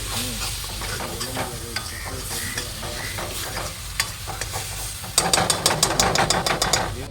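Pepper-fried meat sizzles and crackles in a hot pan while a utensil scrapes and clanks, the stirring growing louder and more rhythmic toward the end.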